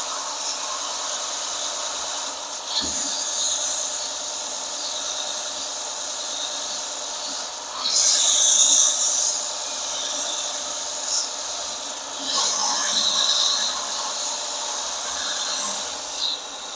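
Wen 6502T 4.3 amp 4x36 belt sander working a 2x6 board, a steady hissing motor whine with rougher bursts of sanding noise as the wood is pressed against the belt, no talk.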